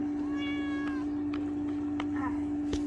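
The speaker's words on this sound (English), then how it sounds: "You can say hi to the kitty." A kitty meows in a high, wavering call, then gives a shorter second meow a moment later, set against a steady electrical hum and faint room noise.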